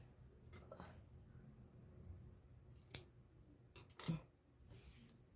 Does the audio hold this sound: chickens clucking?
no